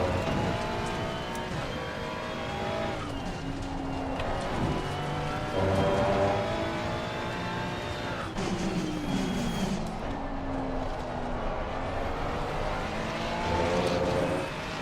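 Race car engine in the Assetto Corsa Competizione sim at Kyalami, a steady loud drone with rising and falling gear-shift pitch sweeps throughout, another car's engine close behind.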